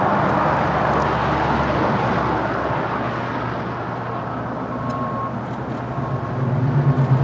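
Emirates Airbus A380 on Flight 215 from Dubai arriving at LAX, a steady loud jet roar with low rumble sustained throughout, swelling slightly at the end, no voices over it.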